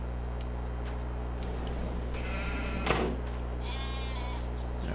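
Sheep in Farming Simulator 22 bleat a few times from inside a barn, a clear mid-distance call standing out over a steady low game hum, with no talk.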